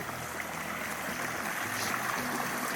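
A creek flows steadily at a trail campsite, its broadband rushing water sound continuous and fairly close throughout, with no one speaking.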